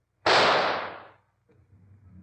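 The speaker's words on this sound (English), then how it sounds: "I'm going to shoot." A single loud gunshot in a Sherlock Holmes drama: a sharp, close blast whose roar fades over about a second, then a faint low rumble of background sound.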